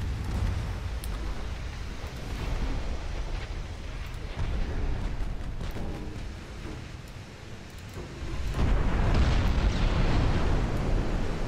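Flash fire explosion aboard a warship in a naval video game, heard as a deep, rumbling roar of bursts and booms that swells louder and denser toward the end.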